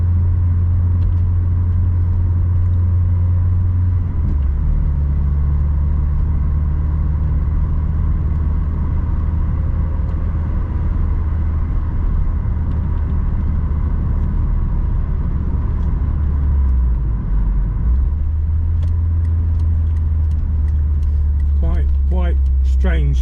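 A Peugeot 205 GTI driving along, its engine a steady low rumble and hum inside the cabin that shifts pitch partway through, while people talk over it.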